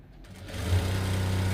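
A sewing machine stitching fabric slowly gives a brief, close motor whir that ramps up and then runs steadily.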